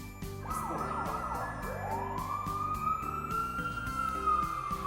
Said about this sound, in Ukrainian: Машина голосно видає звук, щоб їй поступилися дорогою інші машини